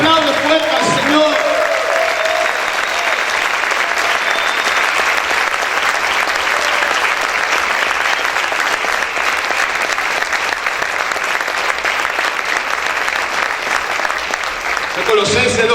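A church congregation claps loudly and steadily for a long stretch. A preacher's voice is heard briefly over the applause near the start and again at the end.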